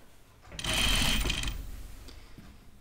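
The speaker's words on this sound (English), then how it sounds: "I'm not speed sewing like I used to try and like, hurry up." A sewing machine stitches a skirt hem in a steady, fast whirring run of just under a second, then slows and stops, heard close and alone.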